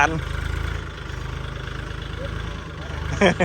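A Kubota L4018SP tractor engine runs close by with a steady, pulsing diesel idle, and a voice briefly joins near the end.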